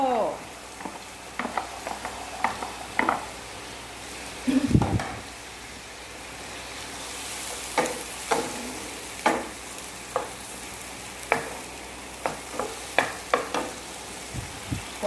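Carrots and other vegetables are stir-fried in a pan for a vegetarian sweet-and-sour egg dish, with a soft steady sizzle broken by repeated scraping and clacking of a utensil stirring, close and fairly quiet.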